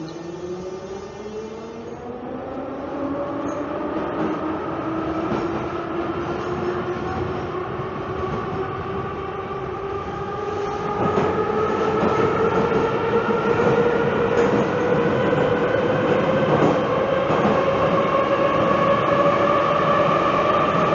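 A Tbilisi metro train runs between stations on the line from Station Square to Varketili, a continuous loud rumble with rising motor whine and rail noise that swells and grows louder partway through, heard from inside the car with no talk.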